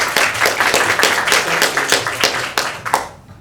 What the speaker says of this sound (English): Please give a big round of applause to Sunu Kumar.